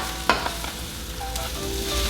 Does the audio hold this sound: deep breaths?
no